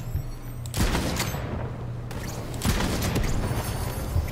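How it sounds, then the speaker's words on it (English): Shotgun fire in the Borderlands 3 video game: two loud, booming blasts about two seconds apart, each with a short ringing tail over a low game background. "Damn, that's a shotgun."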